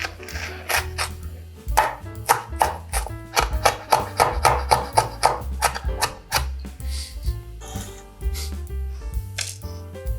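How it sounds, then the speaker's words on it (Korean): A knife minces three Cheongyang chili peppers and one white chili, halved and chopped finely on a cutting board, in a fast run of close, crisp chops that slows toward the end, with background music beneath. "청양고추 3개, 흰고추 하나 들어갑니다. 반으로 갈르셔서 잘게 다져주세요."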